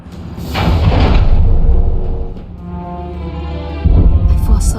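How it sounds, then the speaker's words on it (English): Missile strike explosions boom in Star Wars The Old Republic, loud, deep rolling blasts with heavy low rumble, one swelling early and another hitting near the end. "Target locked. Missiles away."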